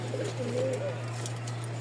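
A large red pigeon with white eyes gives a short, soft throaty coo close by, two brief warbling phrases over a steady low electrical hum.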